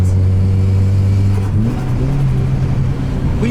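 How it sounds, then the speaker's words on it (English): Turbocharged Suzuki Vitara running Nissan Skyline turbo parts and injectors, its engine droning steadily at low revs, then rising in a swift rev as the throttle is opened, loud and close inside the car. "When you drop it a gear, give it some throttle, the turbo's there."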